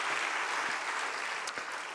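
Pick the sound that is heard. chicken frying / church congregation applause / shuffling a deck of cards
church congregation applause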